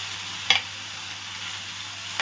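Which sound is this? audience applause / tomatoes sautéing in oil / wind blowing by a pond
tomatoes sautéing in oil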